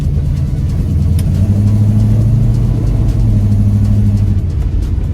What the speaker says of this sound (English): Alrighty, it's now time to go drive the AMC Javelin.